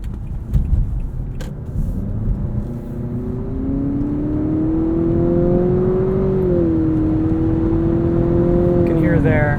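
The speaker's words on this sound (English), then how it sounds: "You can hear there, the CVT definitely wants to simulate some shifts." A 2020 Nissan Altima 2.0 VC-Turbo with a CVT pulls under acceleration, its engine drone rising in pitch, dipping briefly as if shifting, then climbing again, steady and fairly loud from inside the cabin.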